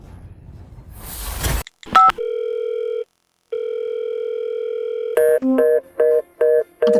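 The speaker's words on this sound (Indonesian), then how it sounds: "Aku telepon dia sekarang." A telephone call gives a ringback tone: two long, steady electronic tones with a gap between, then a run of short, rapid beeps. No voices are heard.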